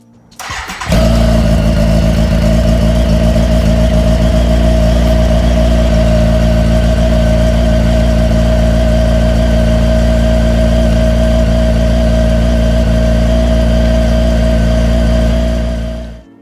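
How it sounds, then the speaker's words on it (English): A Kawasaki ZX-10R motorcycle engine cranks and fires up, then settles into a steady, loud idle close by for about fifteen seconds before cutting off. "So I'm going to open the garage and start the bike."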